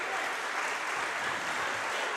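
Spectators applaud steadily at a boys' rugby match between Ireland and England as an injured player walks off the pitch, a continuous patter of clapping at moderate distance with no pauses.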